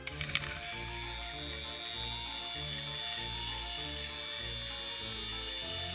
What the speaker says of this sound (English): I'm using the xTool mixer.